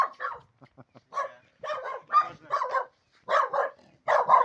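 A dog barks repeatedly in short bursts nearby, mixing sharp barks with softer yips and whimpers.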